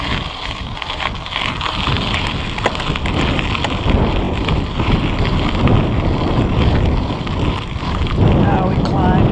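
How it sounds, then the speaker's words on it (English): Buffeting headwind roars across the microphone of a Salsa Fargo 2 bicycle climbing a gradual uphill on a soft resurfaced road, loud and gusty throughout with faint voice now and then. "Now we climb into an uphill headwind"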